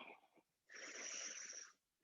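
A slow, faint breath through the nose leads into a longer, airy exhale through the mouth, alone and up close, during a guided breathing exercise.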